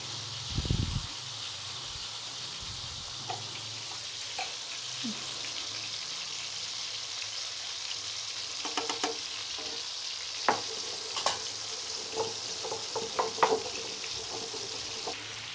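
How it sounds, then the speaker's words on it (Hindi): Mutton kebabs fry in a pan over a medium flame, a soft steady sizzle running throughout, with a few low knocks early on and scattered small pops and clinks of stirring toward the end. "दरमियानी आंच रखनी है ताकि हमारे कबाब आसानी से फ्राई हो सकें और जलें भी ना।"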